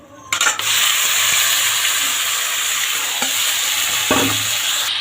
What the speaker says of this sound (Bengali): তো আমি এখানে ম্যারিনেট করা মাটনটা তেলে দিয়ে দিয়েছি, এবার ভালোভাবে কষাবো।